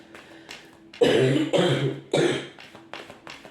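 Several harsh coughs in a row, loud and close, with a short throat-clearing sound between bursts.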